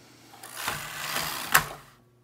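A knitting machine carriage is drawn across the needle bed while knitting socks, making a brief mechanical whirring and clattering pass with a sharper clack partway through, close and alone.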